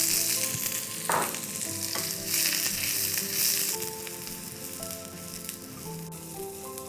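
Garlic, curry leaves, dry red chilies and sliced shallots sizzle in hot oil for a buttermilk moru curry, a bright crackling hiss with occasional stirring clatter, close and continuous, without voices.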